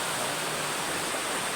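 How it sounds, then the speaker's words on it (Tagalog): Steady, dense rush of a strong river current flowing outdoors, a continuous broadband wash close by with no pauses and no voices over it. "Talaga mga tunay na agos dito."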